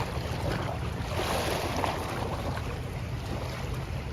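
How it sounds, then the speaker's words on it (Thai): Strong wind roars steadily over open sea aboard a fishing boat out squid fishing near Laem Chabang, Pattaya, with constant buffeting gusts and water wash filling the scene, no voices. "ลมแรงอะครับ วันนี้"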